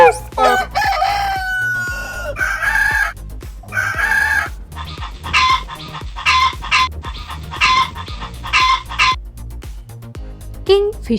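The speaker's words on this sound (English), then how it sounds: "Rooster. Rooster." A rooster crows loudly and close, a long drawn-out cock-a-doodle-doo repeated, then a series of clucking calls in a steady pulsing rhythm.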